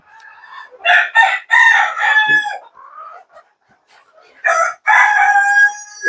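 Loud, close chickens cluck and squawk in busy bursts, a flock of laying hens on a poultry farm calling over one another with a short lull between outbursts.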